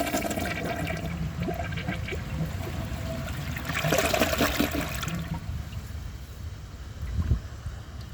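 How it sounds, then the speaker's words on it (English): A 2002 Kohler Gabrielle toilet flushes alone in one steady rush of water lasting several seconds, surging louder midway and then easing into a trickling refill. "So let's give this a flush and see how it does."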